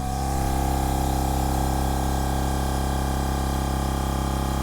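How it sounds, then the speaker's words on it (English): Milwaukee M18 Fuel 2-gallon cordless air compressor running up close, a steady loud motor drone with constant hum and airy hiss, unchanging throughout. "Now I'm going to take my mic and hold it right over here by the compressor."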